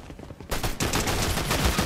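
Rapid SMG fire in Fortnite, a loud close burst of fast repeated shots starting abruptly after a brief quieter moment and continuing steadily to the end.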